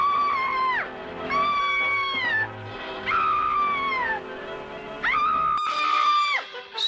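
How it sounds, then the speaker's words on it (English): Cartoon characters scream, with several high, wailing cries that rise and then slide downward, arriving in separate bursts with short gaps between them. "Screaming and yelling won't help a thing."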